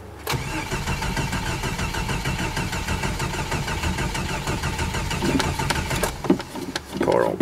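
A Stihl MS660 chainsaw engine runs steadily at a rough, buzzing idle, close and loud, then sputters and falters toward the end as if about to stall, with a few knocks and handling noises.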